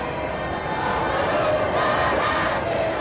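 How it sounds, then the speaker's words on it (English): A huge street crowd at the Paris liberation parade honoring de Gaulle, a dense, steady roar of many voices and cheers filling the air without a break from start to finish. "In the street was the largest crowd I've ever seen."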